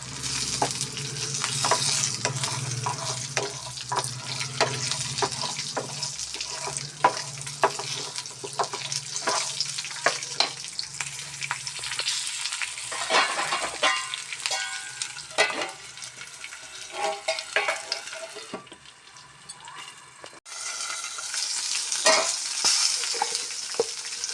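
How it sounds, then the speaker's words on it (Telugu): Green chillies sizzle steadily in hot oil in a pan, a continuous frying crackle with repeated stirring scrapes and clinks, briefly dipping before the sizzle returns strong. "ఇందులోనే పచ్చిమిరపకాయలు కూడా ఫ్రై చేసుకుందాం."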